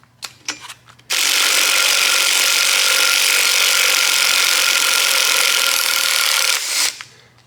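A Snap-on 3/8 inch impact driver rattles hard on wheel hub bolts, one loud, sustained burst of about five seconds after a few short clicks, then stopping with light handling noise.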